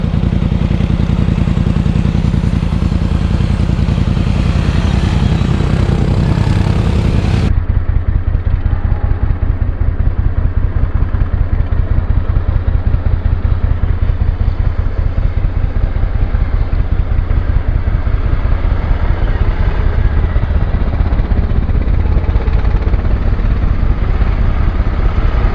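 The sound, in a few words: Polaris Sportsman 450 HO and Suzuki KingQuad 750 ATVs climbing hill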